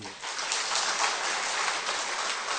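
A church congregation claps for four guests as they stand, a dense, steady wash of applause that stays at an even level from start to finish.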